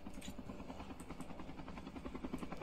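A helicopter in Call of Duty Mobile zombies mode, a steady rapid rotor chop with engine drone, faint and continuous throughout without talk.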